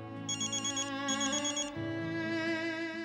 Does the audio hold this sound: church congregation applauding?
no